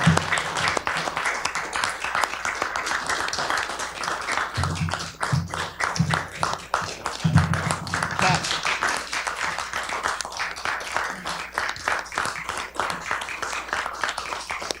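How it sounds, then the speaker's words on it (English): Applause breaks out in a council chamber during a regular council meeting, a steady patter of many hands clapping close by and fairly loud for several seconds, with a few louder individual claps standing out. "there is no clapping or applause based on the mayor's comments at the beginning of the meeting"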